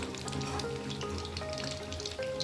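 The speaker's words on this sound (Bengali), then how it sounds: "এবারে সুন্দরভাবে গোল্ডেন কালার করে ভেজে নেব।" Mung dal puli pitha deep-frying to golden in hot oil, a steady close sizzle and bubbling that holds evenly throughout with no talking.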